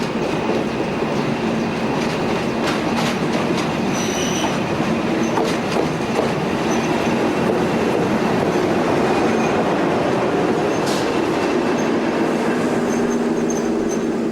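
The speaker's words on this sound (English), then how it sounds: "As this first morning northbound interregional leaves Faro" Portuguese Railways interregional train pulling out of Faro station, a steady rolling rumble of wagons with rail clatter and occasional faint wheel squeal, continuous and fairly loud throughout.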